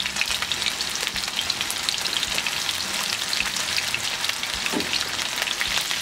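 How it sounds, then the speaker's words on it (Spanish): Small pieces of chicken fry in hot oil, giving off a dense, even crackle and sizzle that stays steady and close without a pause, with no voices over it. "voy a esperar que se me cozan y que se me frían los trocitos de pollo"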